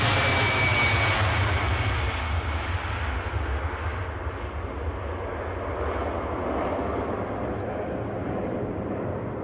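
An airplane takes off from Edinburgh airport, its engines giving a loud, steady roar in the distance that slowly fades and thins out.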